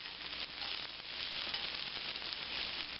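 Sliced onions sizzle and caramelize in a hot pan for chicken fajitas, giving a steady, close, bright hiss with no talking.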